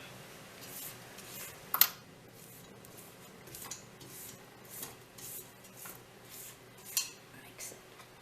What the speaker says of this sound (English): Let me give it one more scrape